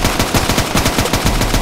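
Rapid automatic fire from a Vector gun in a Roblox hood game, a loud unbroken stream of sharp shots with no pauses, close up and with no talking.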